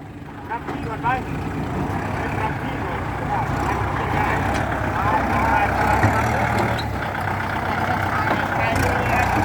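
A farm tractor engine runs steadily nearby, a continuous low rumbling drone with chugging texture, while people talk over it.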